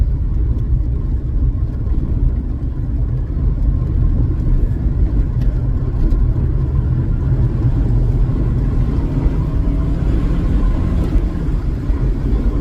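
Saab 9-3 engine in sport mode, a loud sustained rumbling drone from inside the car as it accelerates, steady and continuous with no break.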